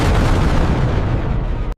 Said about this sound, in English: Fire the missile now. Engage the target. Targeting complete. Missile launched.